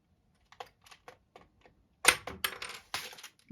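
A plastic key is squeezed out of a Microsoft ergonomic keyboard with needle-nose pliers: a few light, scattered clicks, then a sharper cluster of snapping, clattering plastic sounds up close.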